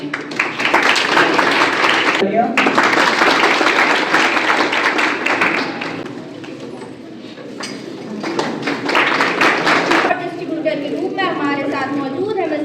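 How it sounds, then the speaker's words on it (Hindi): Loud, dense applause at a school award ceremony as a guest is welcomed onto the stage, breaking off briefly and dipping in the middle before picking up again, with some voices mixed in toward the end. "प्लीज वेलकम, जोरदार तालियां"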